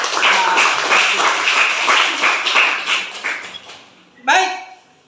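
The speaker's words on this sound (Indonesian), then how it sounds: "Kita tepuk tangan untuk Tasya." A class claps for a student in a teacher-training lesson, a burst of scattered classroom clapping lasting about four seconds before fading, then a brief voice cuts in at the end.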